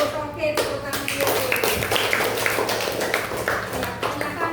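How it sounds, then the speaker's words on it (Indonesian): A classroom of children claps together, a steady patter of many hands ringing out over a few seconds, with voices mixed in among the clapping. "tepuk tangan dulu"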